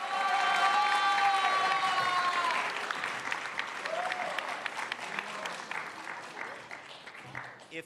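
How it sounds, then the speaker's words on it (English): An awards-event audience gives a big round of applause, a dense clapping wash with some cheering. A voice sounds over it at the start, and the clapping thins gradually toward the end. "Can we also have a big round of applause for Yona Spida, a.k.a. Our Lady J?"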